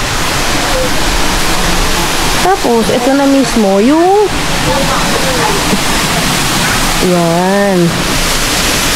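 A flowing stream at a Liliw, Laguna campsite rushes in a loud, constant broadband wash, with people talking over it.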